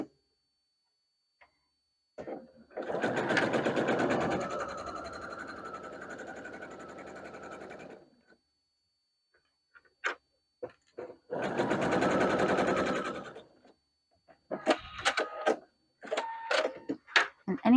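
A sewing machine stitches a dress in two long runs, its rapid mechanical chatter steady and close, separated by a quiet gap and followed by short bursts of handling noise and a few brief stitches.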